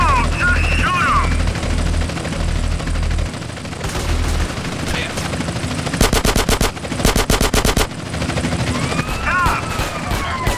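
Rapid bursts of automatic gunfire in GTA San Andreas, loud and close, cutting in repeatedly amid a din of game action, with an aircraft-like drone in the background and a voice shouting over it.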